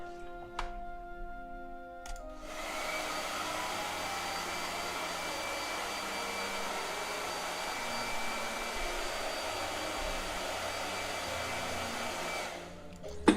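After a couple of quiet clicks, a hair dryer switches on and blows with a steady whooshing whine for about ten seconds, then cuts off.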